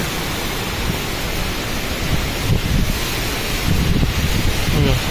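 A main waterfall sliding down from above on the Harishchandragad trek in Maharashtra makes a loud, constant broadband roar with some wind buffeting on the microphone.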